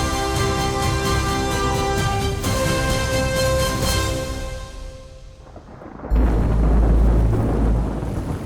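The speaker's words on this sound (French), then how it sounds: "La pluie dans le désert est un phénomène aussi rare qu'extraordinaire" Rain and thunder in the desert, opening with sustained tonal background that fades, then a heavy deep rumble of thunder with dense rain noise filling the final seconds, no voices.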